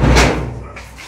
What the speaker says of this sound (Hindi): ये दरवाजा खुद ही खुल गया इतना यार, इसे तो ताला लगा हुआ था।